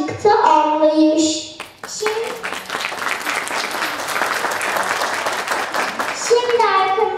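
Children and audience applaud at a primary school reading festival in Turkey, a dense burst of clapping that swells after a child's spoken line and continues loudly, with young voices speaking over the start and end.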